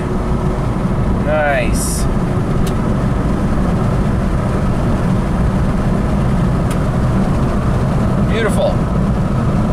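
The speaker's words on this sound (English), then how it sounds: "Let's see how this thing accelerates from zero. It's shifting gears." Chrysler PT Cruiser in limp-home mode with a transmission control fault accelerating from a stop and shifting gears, a steady loud engine drone from inside the cabin, with a person talking briefly over it.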